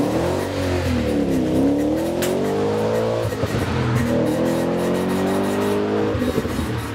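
A Commodore makes a drag racing run down the strip at a test-and-tune day at Heathcote Park, its engine roaring steadily as it pulls through the gears with loud rising and falling revs, heard continuously and fairly near.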